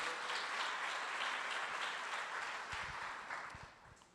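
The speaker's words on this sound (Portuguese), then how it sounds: "Pode dar uma salva de palmas ao Senhor." A church congregation at a family worship service claps together in warm, continuous applause, steady and fairly distant, tapering off toward the end.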